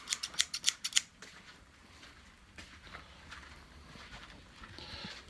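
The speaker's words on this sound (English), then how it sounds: "Okay, I came here for scissors, and I got scissors." Scissors snip sharply several times in quick succession, then faint rustling and handling noises follow in a quiet room.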